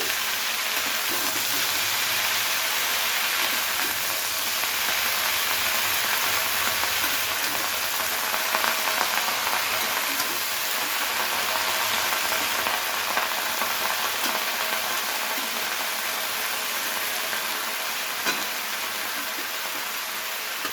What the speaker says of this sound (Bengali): লাউ শাকটা দিয়ে হালকা নেড়ে চেড়ে নেব।